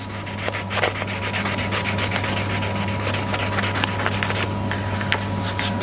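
Hand sanding around the edge of an acrylic piece with fine 1200-grit paper for a halo light, a steady close scratchy rubbing that runs continuously over a constant low electrical hum.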